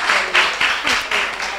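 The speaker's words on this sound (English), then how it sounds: "Clap them on, clap them, clap them, clap them, clap them, clap them, clap them." Audience at a St. Ann community chat session with the mayor clapping together in a quick, rhythmic pattern of bursts, loud and close, with no talk over it.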